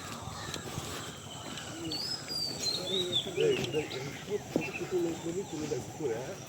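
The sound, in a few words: birds calling in the Sundarbans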